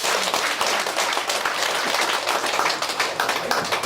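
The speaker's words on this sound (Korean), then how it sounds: "오신 모든 학생들을 위해서 힘찬 박수 부탁드립니다" A hall full of students at the school's entrance ceremony breaks into loud, vigorous applause, dense rapid clapping sustained without pause for several seconds.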